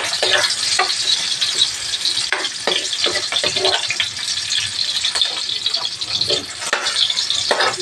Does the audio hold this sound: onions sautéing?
yes